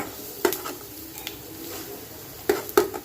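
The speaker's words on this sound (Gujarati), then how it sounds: "આપણી આ ડુંગળી ગુલાબી થવા આવે એટલે છે ને આપણે એમાં આ સેવ નાખી દેશું" Sev vermicelli and onions fry gently over low heat in a pan, with a soft sizzle under a few sharp scrapes and clinks of a spoon stirring against the metal, close and quiet, with no voices.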